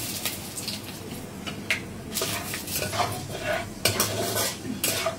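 Mustard seeds, split green chillies and two bay leaves crackle in hot oil in a pan, with irregular pops and sizzles mixed with the clink of a utensil stirring against the metal.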